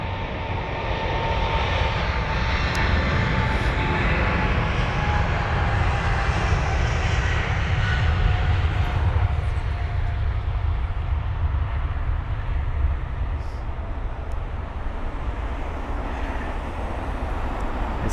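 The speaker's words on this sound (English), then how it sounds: "UA 949 this is off to San Francisco, the 777-200ER." A United Boeing 777-200ER jet departs Heathrow runway 27 right, its engines a loud, steady broadband roar that holds for the whole stretch with a low rumble underneath.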